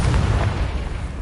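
Confringo spell blast in Hogwarts Legacy, a loud, rumbling low explosion that sustains as a dense roar through the whole moment, with no talking over it.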